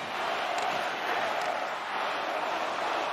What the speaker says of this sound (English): And the crowd cheering for their home team.